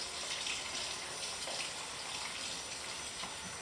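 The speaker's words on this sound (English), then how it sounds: "me start getting a little water running" Tap water running steadily into a sink to warm it to about 100 degrees for home E6 slide film developing, a continuous close hiss and splash with no talk.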